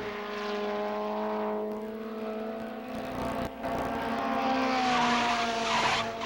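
1975 Formula Atlantic race cars roaring past, high-revving engines whining and shifting pitch as they pass close, one car fading before another sweeps loudly by.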